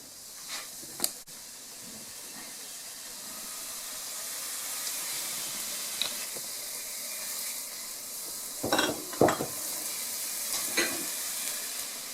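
Pork belly and garlic fry in oil with a steady close hiss and sizzle, broken by a few brief louder spatters and stirring bursts near the end.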